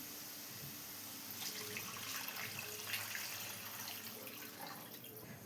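Water poured from a cup into a pan while making rava kichadi, a steady splashing, gurgling pour lasting several seconds at close range before tapering off.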